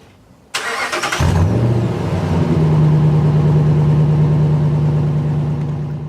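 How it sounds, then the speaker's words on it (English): A 2014 Ram 1500 Sport with an aftermarket exhaust cranks, fires up and settles into a loud, deep idle with a steady rumbling drone, close and alone with no talking. "with an aftermarket exhaust on it, let's take a listen to this one right now"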